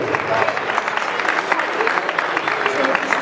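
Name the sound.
audience applauding young fighters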